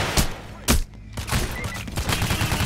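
Rapid bursts of gunfire in Payday The Heist crackle loud and close, with sharp, repeated shots and one heavy blast, then steady rattling fire continuing underneath.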